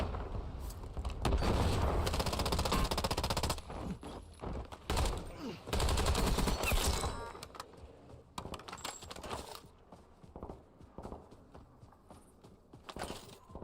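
Short bursts of automatic gunfire from the video game Call of Duty: Warzone rattle in clusters at a fairly low level, then thin out into scattered clicks and footstep-like taps.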